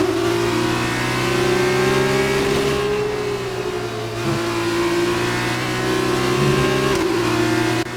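Steady, loud revving of an F2 race car engine in the F1 2019 video game, with a sustained droning tone that rises and dips slightly as the car accelerates, heard alone throughout.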